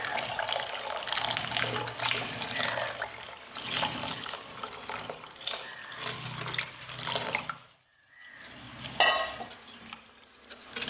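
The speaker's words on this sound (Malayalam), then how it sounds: "പാലും ബട്ടറും നമ്മുടെ പഞ്ചസാര എല്ലാം കൂടെ മെൽറ്റാക്കി വെച്ചിരുന്നത് ഒന്ന് ഇതിലേക്ക് ഒഴിച്ച് നല്ലവണ്ണം ഒന്ന് ഇളക്കി കൊടുക്കാം" A melted mixture of milk, butter and sugar is poured into a bowl for bread pudding and stirred in, giving a steady wet trickling and sloshing that fills most of the clip, with a short pause before the stirring resumes.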